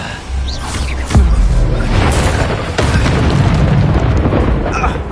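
Bombarda spell blast in Hogwarts Legacy, a heavy booming explosion landing near the start, followed by rumbling debris and further impacts over continuous combat noise.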